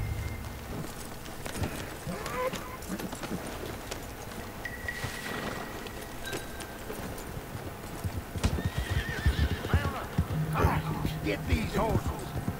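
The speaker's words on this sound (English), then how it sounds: "Get these horses." Horse hooves clip-clop steadily while horses whinny now and then in Red Dead Redemption 2 Online video game, with voices talking over the scene.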